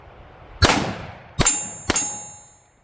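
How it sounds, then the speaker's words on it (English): Three sharp, loud pistol shots from a drop-tested Zulisy gun fired downrange, spaced unevenly about a second apart, each with a ringing metallic decay and no talking. "Let's go ahead, throw some rounds down range and see if it held up."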